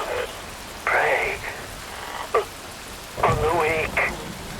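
Rain in Metal Gear Rising: Revengeance pours as a constant broadband hiss with low rumbling underneath, while a voice speaks over it in short phrases.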